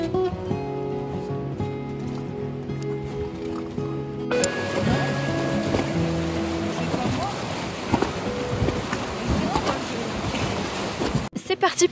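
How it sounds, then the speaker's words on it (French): Rafting on green river water in the Tara canyon in Montenegro: a steady wash of rushing, gurgling water fills the scene behind a layer of music that fades out partway, with a few close knocks near the end. "c'est parti pour une session rafting dans le canyon de la Tara"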